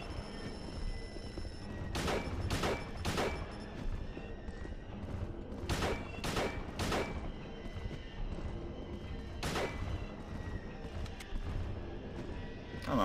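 Sharp pistol shots ring out in the Silent Hill video game, seven crisp cracks in small clusters of two or three, spread over a low background drone.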